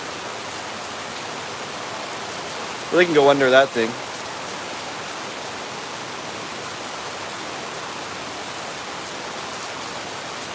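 Steady heavy rain pouring down during the rainy season in Phnom Penh, a constant dense hiss throughout, with a brief spoken remark partway through.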